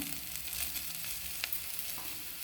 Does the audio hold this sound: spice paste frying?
yes